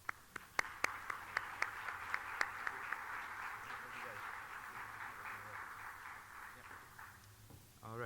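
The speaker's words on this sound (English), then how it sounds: "just have a round of applause?" Conference audience applauding book authors at an academic session, scattered sharp claps at first that settle into steady moderate applause, with a voice speaking faintly underneath.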